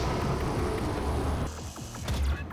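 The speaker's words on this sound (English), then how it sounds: "Like all those like servo sounds, like mechanical arm movement sounds" Mechanical servo whirring and grinding with quick ratcheting clicks, like a motorized arm moving, from the game DOOM, up close and brief.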